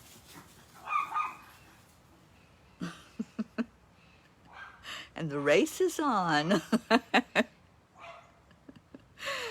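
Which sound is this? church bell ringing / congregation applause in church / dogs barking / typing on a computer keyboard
dogs barking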